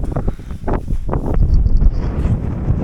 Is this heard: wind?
yes